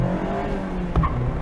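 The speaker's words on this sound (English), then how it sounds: "A little wheel spin shifting into second" A 2024 Mazda MX-5 Miata ND3 with manual transmission spinning its wheels on the shift into second: engine drone with a sharp jolt midway as the gear changes, followed by a brief tire chirp, heard from inside the car.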